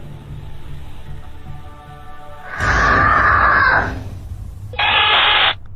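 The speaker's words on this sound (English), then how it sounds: "Then a loud scream pierces the air, sending the little girl running for mommy." A loud scream picked up by a home nanny cam, a sustained piercing cry lasting about a second, followed by a second shorter shriek after a brief pause, over low room hiss.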